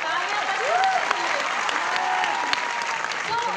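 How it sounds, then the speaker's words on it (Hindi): Steady audience applause at a company recognition event, a dense continuous clatter of many hands filling the room from start to finish. "तालियां बजाओ।"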